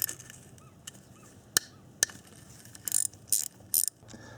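Quick ratchet wrench clicks working on an oil line bolt of a Yamaha YZ426F dirt bike, a few isolated sharp clicks followed by short bursts of rapid ratcheting, close up.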